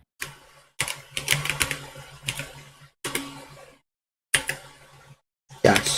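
Keys tapped in quick irregular bursts while predictions are entered during a sports podcast, close and clicky, with short pauses between runs and a low hum underneath.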